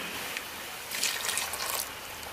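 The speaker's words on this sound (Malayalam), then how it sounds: "അണ്ടിപ്പരിപ്പ് അരച്ചത് അങ്ങ് ഒഴിച്ചു കൊടുക്കാം" Ground cashew paste poured from a mixer jar into a pan while making egg biryani, giving a soft, wet trickling splash that swells for about a second over a faint kitchen hiss.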